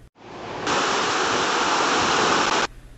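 Rushing river water at the confluence of the Alaknanda and Bhagirathi in Devprayag, where the two rivers join to form the Ganga: a steady, loud roar that swells in after a brief quiet moment and holds evenly, with no voices.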